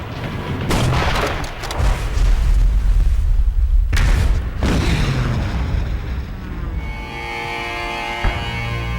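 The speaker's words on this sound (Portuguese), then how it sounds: "Ouvimos o estrondo das armas." Heavy gunfire and explosions from a WWII naval battle off Guadalcanal roar continuously, with loud booming blasts and rumbling bursts, a sharp crack near four seconds, then a sustained droning tail.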